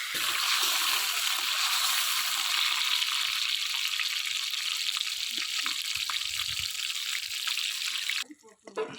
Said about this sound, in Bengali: তেলটা গরম হয়ে গেছে এবার চিংড়ি মাছটা ভেজে নেব